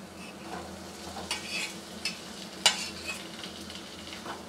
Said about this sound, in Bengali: মশলার সঙ্গে আলুগুলো মিশিয়ে নিচ্ছি।